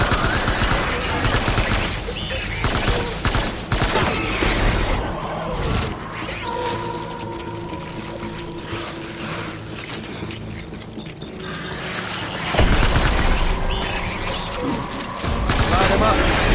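Sustained gunfire in a Vietnam War video game firefight: loud, dense bursts of automatic weapons and booms that ease off midway, then return in heavy volleys, with voices at times underneath.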